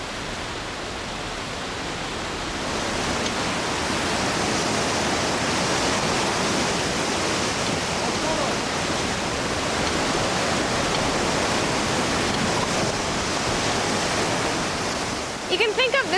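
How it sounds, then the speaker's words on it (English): A fast-flowing river tumbles through a Himalayan foothill valley, a loud, dense, unbroken rush of water that swells after the first few seconds and holds steady. "the fast-flowing rivers that tumble through these valleys"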